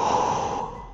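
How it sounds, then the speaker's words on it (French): Heavy breathing from a person doing a morning golf warm-up exercise, a single loud, breathy exhale with a snort-like edge that fades slightly toward the end, close to the listener. "Je fais mes cycles de respiration."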